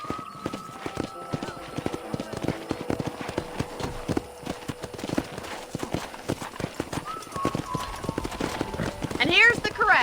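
Rhythmic clip-clop of horse hooves at a steady trot in Red Dead Redemption, close and continuous, with a brief whinny near the end and some talking in the background.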